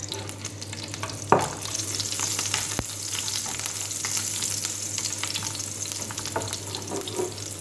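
Garlic fries in oil in a pan for a Filipino stir-fried kangkong dish, giving a steady sizzle with occasional stirring clinks and no talking.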